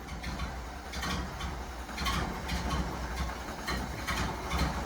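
A 1931 Ford Model A pickup engine idles steadily up close, a low rumble with a faint regular pulse holding an even level throughout, with no voices.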